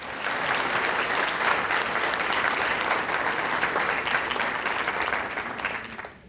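An audience in a lecture hall breaks into sustained, loud applause to welcome Rabbi David Rosen, steady clapping that fades out at the end with no talk over it.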